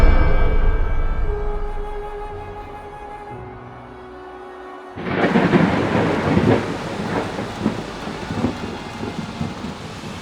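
Heavy rain and rolling thunder from a horror short film: a low, dark rumble builds, then a loud burst of thunder breaks into dense, pattering rainfall that keeps going to the end.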